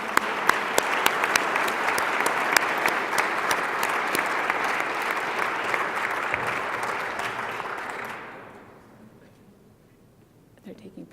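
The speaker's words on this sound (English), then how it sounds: "let's give a warm round of applause to Morgan Stanley" Gala audience gives a warm round of applause for the Morgan Stanley team receiving an award, dense loud clapping with a few sharp nearby claps, then tapering away into near quiet.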